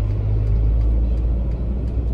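Car engine during a driving test as the driver shifts into second gear: a loud, steady low rumble throughout, close and continuous, with no talk.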